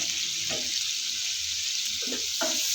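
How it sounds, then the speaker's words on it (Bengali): Prawns fry in oil with chili, ginger, garlic, salt and turmeric, making a constant bright sizzle with a few soft stirring clatters over it. "দিয়ে মাছগুলো ভাজা ভাজা করে নেব"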